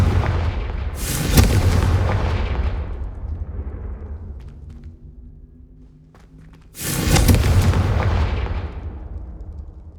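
Two loud booming blasts from the Confringo spell in the game Hogwarts Legacy, each a sharp crack that rolls into a long rumbling decay, spaced about six seconds apart with a quieter lull between them.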